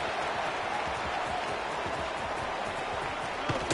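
Crowd cheering and applauding a punt return in the NCAA College Football 26 video game, a dense, steady roar of clapping and voices filling the whole stretch at an even level.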